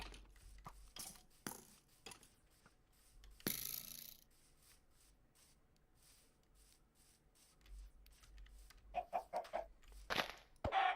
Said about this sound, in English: I think I gotta go kill some chickens.